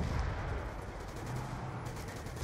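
AN-94 rifle gunfire in a Call of Duty zombies game on the Die Rise map, a dense continuous burst of rapid shots, fairly faint and steady throughout, with no talk.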